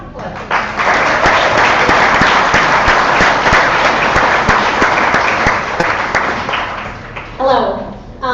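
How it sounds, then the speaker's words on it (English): A large crowd applauds steadily for several seconds, a dense wash of clapping that tapers slightly near the end, with a brief voice at the close. "round of applause."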